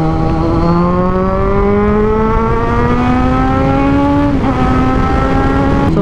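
A 2023 Kawasaki Z1000R, a 1000cc inline-four naked bike, pulls hard through the gears at highway speed. The engine rises in a loud, smooth howl, briefly dips at a shift, then climbs again, close and steady with wind roar.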